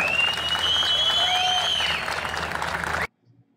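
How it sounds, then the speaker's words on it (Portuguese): A crowd applauds steadily for about three seconds, dense clapping with a few whistles and cheers, then it cuts off abruptly. "Uma salva de palmas para Leonardo do Vale, por gentileza."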